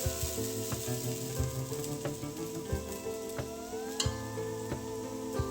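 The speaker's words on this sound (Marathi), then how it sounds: "आता जे आपण उत्तप्प्यासाठी बॅटर बनवलं होतं ते त्याच्यावरती टाकून घेऊ" Rava uttapam batter spread on a hot pan, a quiet steady sizzle with light tapping and scraping at intervals, no talking.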